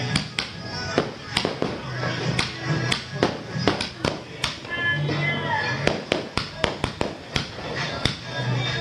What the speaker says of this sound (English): Beautiful fireworks there